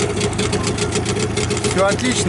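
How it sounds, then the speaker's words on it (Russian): A boat motor idles with a steady, even chugging pulse close by on the water at the spring opening of the boating season, while someone speaks briefly over it. "Мотор работает как часики."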